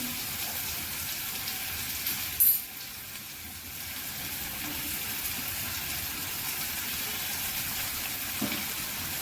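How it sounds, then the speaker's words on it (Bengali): Onion and ginger frying in a pan for a moong dal and fish head dish, giving a quiet, steady sizzling hiss with a brief louder clatter near the start. "পেঁয়াজটা একটু ভাজা হবে।"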